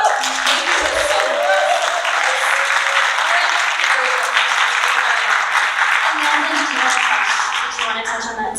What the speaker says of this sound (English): So a round of applause to people who are making this film.